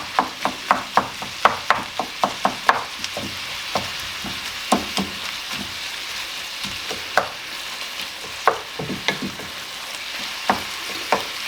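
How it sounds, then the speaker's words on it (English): Minced meat with onions and peppers being stirred and fried in a pan for lasagne, a rapid series of sharp spatula scrapes and knocks at first, then sparser strokes over a steady close sizzle. "All the onions and the peppers have gone in with the mince. Just moving it round, keeping it going, keeping it moving."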